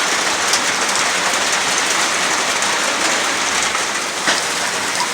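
Heavy rain pours down in Mexico City, heard from under a roof as a dense, unbroken hiss that stays loud and steady throughout, with no voices.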